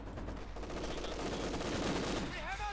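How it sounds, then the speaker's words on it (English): A veteran MG42 machine gun fires during a Company of Heroes 2 match, a loud, fast, continuous burst of gunfire amid other battle noise, with a commentator speaking over it. "MG42 veteran D3 firing support."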